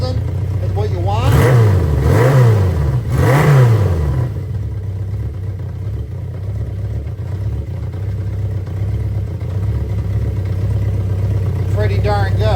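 A 1973 Honda CB 350 motorcycle idles after carburetor synchronization, loud and close, with a few rising and falling throttle blips before it settles into a steady low rumble.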